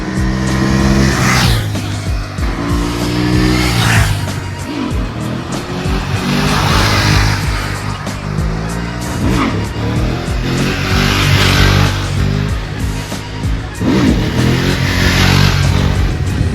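A BMW F750 GS motorcycle cruises along a coastal road near Lisbon, its engine droning steadily at constant speed with loud wind rush and occasional swells as traffic passes.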